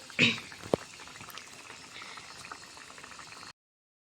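Thick mustard-based fish gravy for a pabda fish curry bubbles softly in a pan, a faint, steady simmer after a brief louder sizzle at the start.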